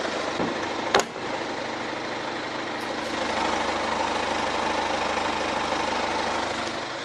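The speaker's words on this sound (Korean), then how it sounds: "평균적인 디젤 엔진 정도 엔진 소음 만나볼 수가 있는 차량이고요" Hyundai Grandeur HG 2.2 diesel engine idling, a steady, even rumble heard up close with a single sharp knock early on and no talking.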